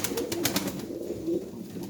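Pigeons coo softly in low, repeated throaty calls, fairly close, over a faint outdoor background with no talking.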